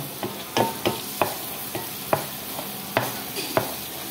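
Minced garlic sautéing in melted butter in a pan, a steady background sizzle broken by a series of sharp scraping stirs and clatters spaced irregularly, no talking.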